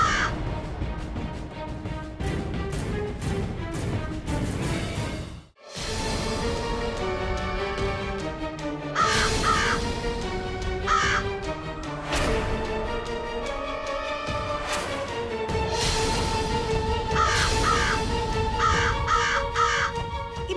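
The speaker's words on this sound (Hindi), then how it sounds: "मनहूस कौवा कहाँ से आ गई?" A crow caws repeatedly in a Bhojpuri television drama scene. The harsh calls sit over continuous background music and sound effects with a brief dropout partway through.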